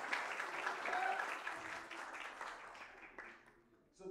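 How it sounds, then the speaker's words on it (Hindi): Audience applause fills a live stage event, a steady wash of many hands clapping that continues for several seconds before thinning out near the end. "जोरदार तालियां मुझे लीजिए"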